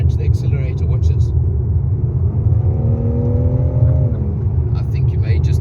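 A BMW M3 Competition cruising at 100 km/h in 8th gear as the throttle is nudged, a steady low engine rumble and road drone with a rising whirring pitch, heard from inside the cabin.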